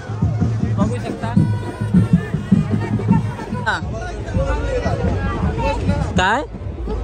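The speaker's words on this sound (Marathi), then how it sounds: "खूप गर्दी आहे बघू शकता." A large, dense crowd hubbub surrounds the Kalyan Koliwada palkhi procession, with close voices talking over steady murmuring babble and a few sharp bursts of noise.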